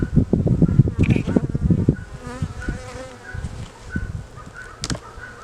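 Honey bees buzz around an open hive during an inspection, with dense close droning bursts early on, then a thinner, softer hum with scattered higher buzzes.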